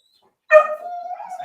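A dog on a dog-sports training session gives a single sharp bark that trails into a drawn-out whine, fairly close and alone after a moment of silence.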